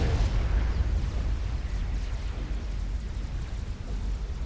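Deep, rumbling explosions from a large multiplayer battle in the strategy game Supreme Commander: Forged Alliance Forever, a steady low roar with overlapping blasts throughout and no voices.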